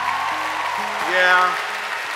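Audience applause at the Steubenville San Diego 2017 youth conference: steady clapping noise under a speaker's brief spoken word, with sustained musical tones beneath and a slight swell midway.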